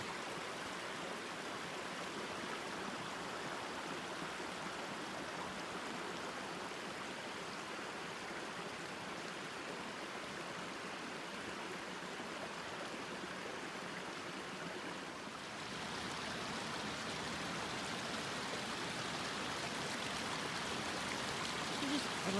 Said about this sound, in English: being in here next to the creek.